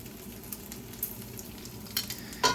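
Carbonara ingredients sizzling gently in a pan on a home stove, a steady soft frying hiss with a few small pops and spatters.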